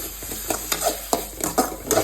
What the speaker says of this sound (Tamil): தக்காளி போட்டாச்சு.